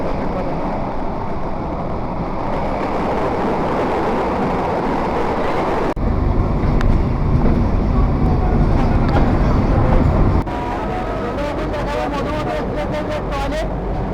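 An old passenger train runs toward Khoksa railway station with a steady loud rumble and rattling of carriages, a heavier surge midway, then rhythmic clicking of wheels over rail joints near the end.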